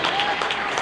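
Fans and teammates applaud at a high school girls' basketball game, a brief steady wash of clapping from a gym crowd heard under a commentator's voice.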